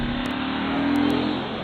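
An Audi RS4 sedan's engine revs briefly, a steady loud mechanical drone that swells slightly in the middle before easing off.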